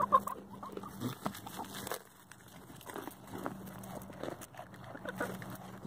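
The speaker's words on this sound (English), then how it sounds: "The chickens pick the animal crackers off the ground, but Dixie, you have to hand feed them" Farm chickens pecking animal crackers off the ground, giving soft, scattered clucks and low murmurs at a quiet distance amid faint rustling and background noise.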